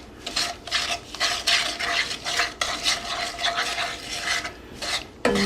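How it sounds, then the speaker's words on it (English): A spoon stirs an egg into cookie batter for an iron skillet cookie, giving repeated close, wet scraping and rasping strokes against the bowl in an uneven rhythm, with no voice over it. "And mix this in with the mixture."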